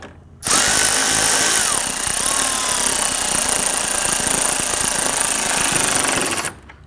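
Power tool driving the fasteners on the front bumper cover of a 2010-2019 Ford Taurus, one loud, steady, continuous whirring burst of about six seconds, close up and heard alone.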